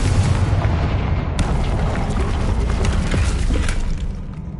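A loud, deep explosion from the Confringo spell in Hogwarts Legacy, a sustained rumbling boom that fills the whole moment and slowly fades toward the end, with no talking.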